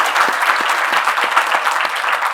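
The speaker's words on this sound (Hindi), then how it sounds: "मुखर्जी के लिए अगर जोरदार तालियां बजा दें।" Audience applause for actress Rani Mukherji, a dense, steady wash of many hands clapping close by throughout, with no voices over it.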